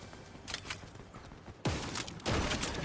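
Rapid Fortnite gunfire crackles in bursts, a quieter volley early on and then two loud, sharp barrages that fill the rest of the moment, with no talking over them.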